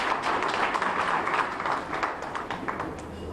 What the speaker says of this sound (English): And let's applaud them for that